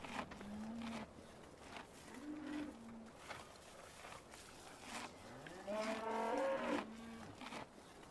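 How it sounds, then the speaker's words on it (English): Cows mooing in the Farming Simulator 15 video game on the Sosnovka map, several drawn-out moos spaced apart, the last one longer and louder, over faint background game ambience. "There's the cows. You want to hear them eating?"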